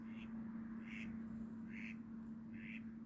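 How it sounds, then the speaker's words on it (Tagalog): A duck quacking by a partly frozen lake in cold weather, four short, evenly spaced quacks heard faintly at a distance over a low steady hum. "lumilipad yung ibon. O yung duck pala."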